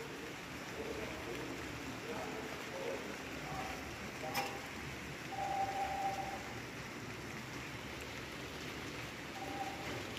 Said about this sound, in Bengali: বৃষ্টির আওয়াজও শোনা যাচ্ছে।